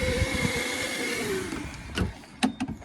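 A Milwaukee M18 cordless vacuum runs with a steady, fairly quiet broadband whir and a slight falling tone, followed by a few short clunks and bumps near the end.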